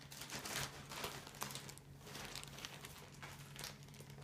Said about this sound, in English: I keep it in this kind of noisy little plastic bag.